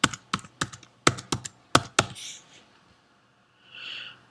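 Quick bursts of computer keyboard typing, a few clustered keystrokes then a pause and one more short patter, close and clear with no voices.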